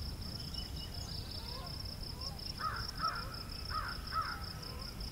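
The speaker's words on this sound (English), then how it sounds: "American crow." Four hoarse American crow caws in two pairs from a moderate distance, over steady background hiss and a high insect-like drone.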